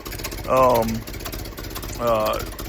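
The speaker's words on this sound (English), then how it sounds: "But little Model A engine runs pretty good." A 1929 Ford Model A Tudor sedan built as a traditional hot rod, with a Stromberg carburetor, idles with a steady low rumble. The engine note swells twice into louder, tonal surges.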